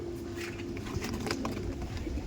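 Andhra pigeons coo in low, soft murmurs close by, with a steady background hum and faint rustling.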